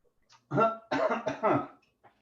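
A few short, harsh cough bursts in quick succession, close to the mic, followed by a faint trailing sound.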